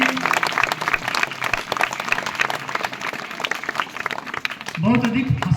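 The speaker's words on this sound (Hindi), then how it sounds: "आप ताली बजा रहे हैं तो थोड़ा सा मनोबल बढ़ जाता है" Audience applause at a rangoli competition event, a dense, steady patter of clapping that carries on, with a voice speaking toward the end.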